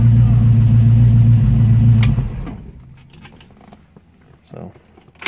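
A 1965 Ford Mustang fastback restomod with a 5-speed gearbox revs its engine loudly up close in a deep, steady roar for about two seconds, then cuts back to a low idle rumble with faint clicks.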